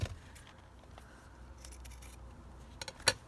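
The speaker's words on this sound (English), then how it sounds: "I'm just going to trim that ruffle off here." Scissors snip a ruffle off the edge of a handmade junk journal, a few quiet cuts near the end after a stretch of soft paper rustling at a close, low level.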